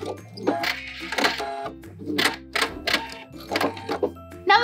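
Sewing machine backstitching the final seam of an envelope pillow cover, heard as a series of short rapid mechanical stitching bursts with brief pauses between them, close and clear with no talking.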